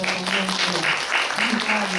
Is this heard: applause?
yes